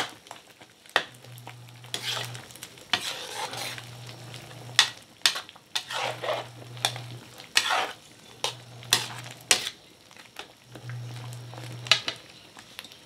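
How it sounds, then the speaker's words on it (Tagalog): A Filipino mung bean dish with garlic, onion and chicharon sautéed and stirred in a pan: rhythmic scraping strokes and clanks of a utensil against the pot over a soft sizzle, with a low repeating hum in the background. "Ginisan muna natin sa bawang at sibuyas"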